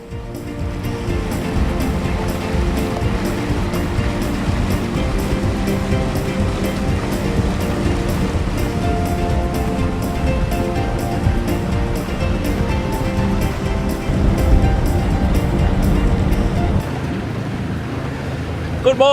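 A sailing boat under way through a small fjord near Hamburgsund, Sweden, with continuous wash and wave noise against the hull, loud and steady. Someone speaks over it.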